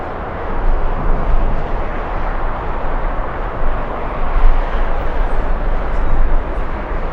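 Copa Airlines plane arriving from Panama City at LAX in strong winds. A steady, dense jet roar mixed with gusting wind runs through the whole clip at a fairly even loudness, with no talk.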